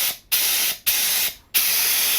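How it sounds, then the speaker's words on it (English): Three long bursts of a cheap Harbor Freight HVLP spray gun spraying Rustoleum paint at around 27–30 psi, hissing loudly and steadily, each lasting about half a second, separated by brief pauses. "Spray this thing down."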